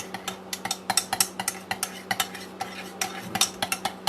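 Cornbread mix being stirred into a batter with a utensil, giving a run of close, quick scraping and clinking strokes in an uneven rhythm, with no voices.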